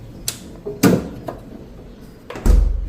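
A deep freezer door is shut after fish is stored inside, giving a few close, sharp thuds and knocks. The last and heaviest one sounds like the door slamming home.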